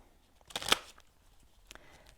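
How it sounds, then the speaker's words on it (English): Tarot cards are shuffled in a quick, faint riffle that lasts under half a second, followed by a softer brush of cards a moment later in a quiet room. "Just going to shuffle a little bit more."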